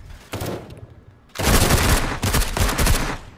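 Uzi fire in a Call of Duty style shooter comes as a short burst, then a longer, loud, dense run of rapid automatic shots, close and with no talk over it.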